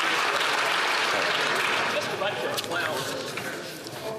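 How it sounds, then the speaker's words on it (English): Liberal MPs clapping in the House of Commons during Question Period, a dense steady wash of applause with voices and chatter mixed in, gradually thinning toward the end. "I guarantee it's all the Liberals that are clapping right now."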